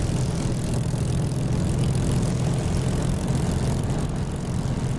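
Spitfire engine roaring at takeoff in the DCS flight simulator, a dense, steady propeller drone held loud and close throughout with no talk.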